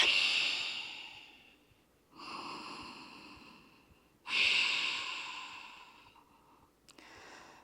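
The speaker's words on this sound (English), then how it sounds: "And breathe." Slow, deep breaths during a yoga power flow class: two long exhales and one inhale, each a few seconds, close and fairly loud, with no talking.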